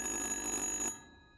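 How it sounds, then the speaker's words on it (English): A telephone rings in the horror video game Little Hope, a bright electronic trill that sounds steadily for almost a second and then cuts off, with only a faint tail after and no talking. "Answer the goddamn phone!"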